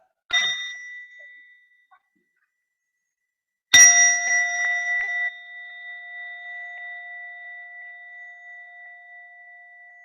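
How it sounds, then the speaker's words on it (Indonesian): A meditation bell rings out in a quiet setting, struck with a brief first tap and then a clear, louder strike whose bright tone fades slowly over several seconds. "Mari kita dengarkan satu bunyi genta"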